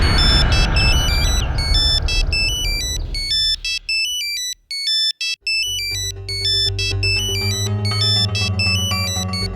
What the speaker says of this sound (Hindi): हाँ देव बेटा, कैसे फोन किया?